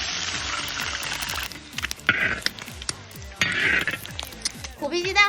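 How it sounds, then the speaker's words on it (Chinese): Boiled eggs deep-frying in a wok of hot oil for tiger-skin eggs, with a steady sizzle and crackle, bursts of spattering and clinks of a utensil stirring against the pan. "然后把鸡蛋下锅，给它炸成虎皮鸡蛋。"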